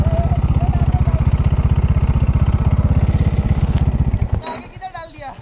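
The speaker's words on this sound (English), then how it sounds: "Let me park the bike properly." A motorcycle engine idles loud and close with a rapid, even thumping pulse as the bike is parked near a waterfall outside Malshej Ghat, then cuts off, leaving faint clicks and a voice speaking.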